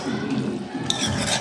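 A tilapia dish stirred in a pot gives a continuous close, wet scraping and sloshing for a moment, steady and moderately loud with a brighter swish near the end, and no voice.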